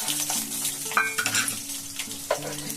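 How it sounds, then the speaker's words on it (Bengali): Peanuts, about 200 grams, frying over a low flame in a pan for homemade chanachur, giving a steady broadband sizzle with scraping stirs and a few sharp clinks against the pan, with background musical tones underneath. "এবারে একটু কম আঁচের মধ্যে বাদামগুলোকে আমি ভেজে নেব।"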